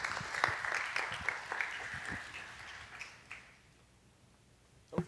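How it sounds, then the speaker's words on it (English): Audience applause at a university residence-life supporter orientation, a burst of clapping that fades out over a few seconds, followed by a single louder thump. "So let's give them a round of applause."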